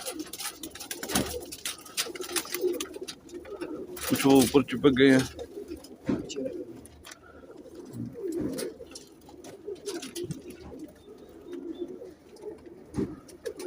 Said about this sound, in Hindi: ये देखें माशाल्लाह कैसे प्यारे कबूतर हैं।